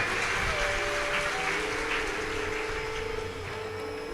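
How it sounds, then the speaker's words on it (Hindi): Audience at a live Shiv Mahapuran religious discourse applauding, a steady broadband wash of clapping that fills the whole stretch at even loudness, with a faint tonal hum underneath. "एक बार इनके लिए जोरदार ताली बजाए।"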